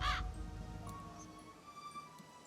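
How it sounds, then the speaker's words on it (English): A single crow caw sounds near the start of a Nancy Drew game scene, short and harsh, then fades into a quiet ambient background. "That sound like crow."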